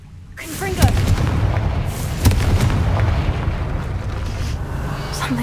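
A Confringo spell blasts in Hogwarts Legacy, a sudden booming burst followed by a second thud and a sustained rumbling roar that fades slowly, with a voice speaking at the start.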